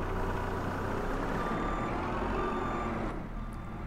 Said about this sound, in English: Backing down the trailer, especially for the first time with a new machine, is a little tricky here